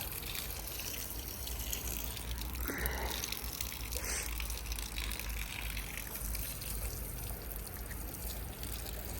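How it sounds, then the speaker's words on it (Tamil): Water pours steadily onto grape plants in a home garden in Germany, a continuous close splashing rush with no pauses. "தண்ணி விடுறார்."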